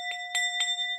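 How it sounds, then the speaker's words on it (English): A small bell is struck several times in quick succession, each strike leaving a bright, sustained ring that carries between hits, fairly quiet and with no voices. "I'm gonna hit the bell."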